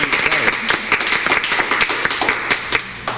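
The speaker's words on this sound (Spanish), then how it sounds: "Un aplauso para ustedes" A studio audience claps for guests welcomed onto a Spanish-language interview program, a brisk, dense patter of hands with a voice talking over it.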